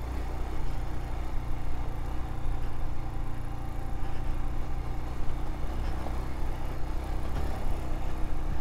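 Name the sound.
Royal Enfield Himalayan motorcycle engine shifting into first gear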